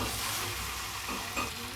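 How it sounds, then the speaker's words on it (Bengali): Potatoes sautéing in a pan for chicken curry give a steady, soft sizzle with faint stirring scrapes, brief and close. "এবার আলুগুলো দিয়ে নিচ্ছি, দিয়ে নিয়ে ভালো করে কষিয়ে নিই।"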